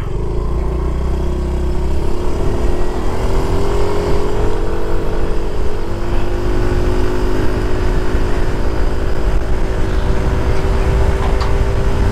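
A Yamaha Mio i125s scooter engine runs on a test ride, a steady close hum that rises in pitch as it accelerates and then holds at speed, with wind noise underneath.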